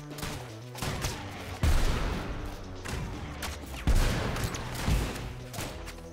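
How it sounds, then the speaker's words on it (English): Gunfire in the video game Rounds: a few punchy shots and bursts, spaced a second or so apart, over a steady buzzing game backdrop. "Oh my god, the way these bullets fly through there."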